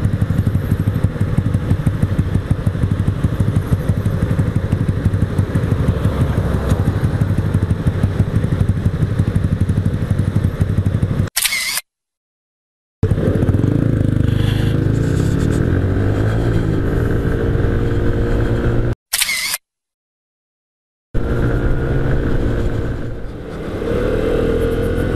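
A Dafra Cruisym motorcycle accelerates hard from a standstill to 60 km/h, its engine a loud, steady roar with wind rumble, broken by two abrupt silent gaps before the roar resumes.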